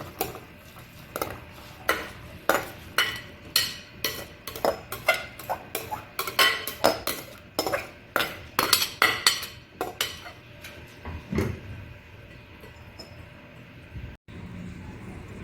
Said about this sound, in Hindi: अब हम डालेंगे चावल,